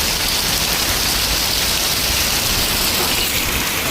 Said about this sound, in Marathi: म्हटलं बाहेर पाऊस पडतोय, दाखवतो तुम्हाला बघा